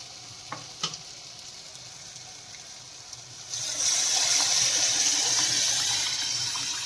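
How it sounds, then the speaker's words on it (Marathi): Cooked dal is tipped into masala frying in a pan for dal tadka, bringing a sudden loud, steady sizzle after a few faint clinks, which holds to the end with no one talking. "आता आपण ह्याच्यामध्ये डाळ टाकून घेऊया शिजवलेली डाळ"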